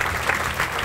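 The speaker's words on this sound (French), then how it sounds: "Je vous demande d'applaudir Thierry Capocci avec son sandwich crevette thaï." An audience at a sandwich competition in Paris breaking into applause, a brief burst of dense clapping at a steady, fairly loud level.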